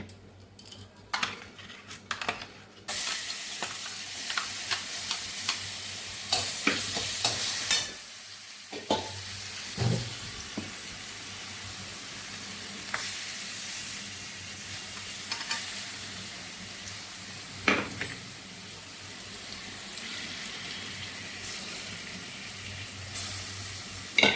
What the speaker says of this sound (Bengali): এখন এটাকে ভেজে নেব।